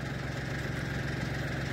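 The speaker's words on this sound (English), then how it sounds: "Those diesel engines start right up." Diesel tractor engine running steadily outdoors in winter, a low, even idle rumble with slight knocking vibration, close and continuous.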